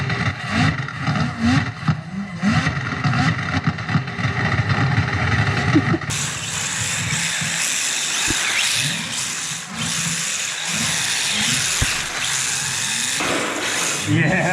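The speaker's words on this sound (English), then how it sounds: "With like the most savage limiter I've ever heard." A Volvo engine in a racing simulator game bouncing harshly off the rev limiter, a loud, continuous buzzing stutter heard throughout without talk.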